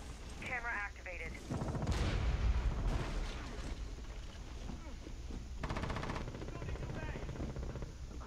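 Bursts of gunfire in Rainbow Six Siege on a skyscraper map, rattling volleys that come and go over a constant background rumble, with someone talking over parts of it.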